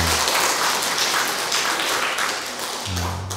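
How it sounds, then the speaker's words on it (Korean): Congregation applauding inside a church during an Easter Vigil Mass, a dense, steady wash of clapping that holds loud throughout, with a faint low murmur of voices near the end. "박수 한번 치죠"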